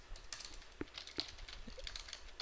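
Fingers tapping on a computer keyboard in a quiet room, a handful of faint, scattered key clicks at an irregular pace with no voices.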